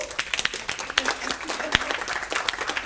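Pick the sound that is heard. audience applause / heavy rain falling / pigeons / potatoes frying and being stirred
audience applause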